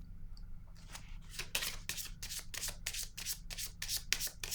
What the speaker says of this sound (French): Je vais déposer une carte sur lui.